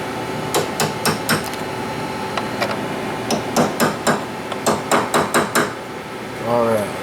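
Light metallic hammer taps seating a motorcycle jackshaft bearing on a Yamaha XF1100, with clusters of quick close taps spread over several seconds and a short squeak near the end.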